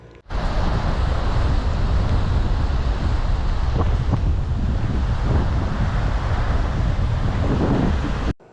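Strong wind roars across the microphone over the rumbling wash of sea waves on the coast of Taiwan, a loud continuous noise with no voices.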